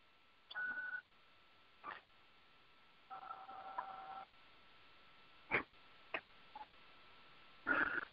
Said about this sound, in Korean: 어느 분이 지금 이 전화기를 계속 누르시는 소리가 나는데요